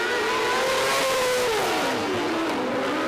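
A No. 00 race car exits turn four on a racetrack, its loud engine whine holding steady and then sliding downward in pitch as it sweeps past over a continuous roar, with no voices.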